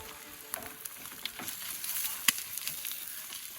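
Eggs frying over easy in a pan at a campsite by foggy Tomales Bay, a steady crackling sizzle with scattered pops and ticks throughout.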